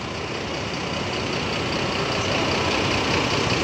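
The ALS 220 bus, a former Tali Jaya tourist coach from Serang, Banten, idles at the ALS Cililitan terminal in Jakarta, giving a steady, loud, unbroken engine rumble with no talk over it.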